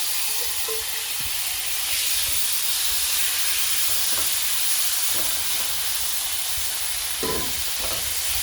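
Shrimp dropped into a pot of hot olive oil, sizzling in a steady, fairly loud hiss with a few sharp crackles and pops scattered through.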